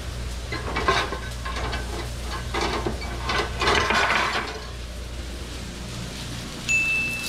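A metal griddle is set onto a stovetop with a short series of close metallic clanks and scrapes, after which the kitchen settles into quieter background noise.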